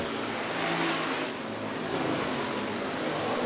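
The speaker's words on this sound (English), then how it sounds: "Caden Wessels round out the field for the 4th and final heat race for the USRA Hobby Stocks tonight" USRA Hobby Stock race cars in a heat race at Rapid Speedway roar loudly and continuously as they pass at full throttle.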